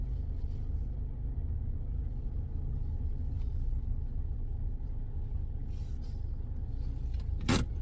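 A car engine idling and rumbling as it parks, a steady close low drone throughout, ending with a brief sharp scraping burst near the end, no speech.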